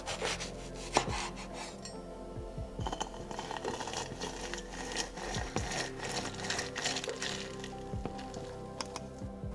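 A spoon clinks and scrapes in a bowl as lemon juice and extra virgin olive oil are stirred into a homemade hair mask, giving a steady run of small taps and rubbing sounds close up.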